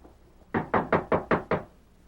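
Five firm, evenly spaced knocks on a wooden door, loud and close, with no talk over them.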